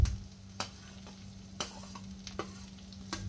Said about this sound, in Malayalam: ഇനി കുറച്ച് കൊച്ചുള്ളിയും കൂടെ അതിലേക്ക് ചേർത്ത് കൊടുക്കാം.